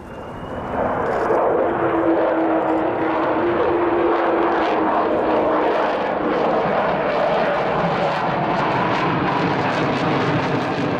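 An Avro Vulcan B2 jet bomber, XH558, passes over the airfield during an airshow display, a loud sustained jet roar that swells in and holds steady with a drifting engine howl, no talk over it.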